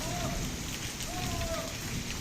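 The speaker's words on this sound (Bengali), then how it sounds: "অনেক ঝড় বৃষ্টি" Rain patters steadily on surfaces, with two faint rising whistle-like tones drifting over the hiss.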